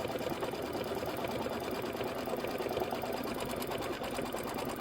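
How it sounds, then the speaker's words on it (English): An embroidery machine stitches out a quilting design on a Kimberbell pillow block, its rapid needle chatter steady and close throughout with no pauses or voices. "We're going to stitch this out, and then we'll change our thread to white."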